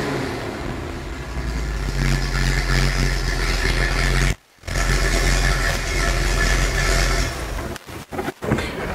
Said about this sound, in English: you should be able to hear the exhaust system.